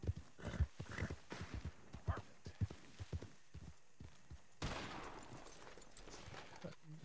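Gunfire in the Red Dead Redemption 2 western video game: a single sharp shot with a decaying, echoing tail, heard among light rhythmic horse hoof clip-clops, with no talking.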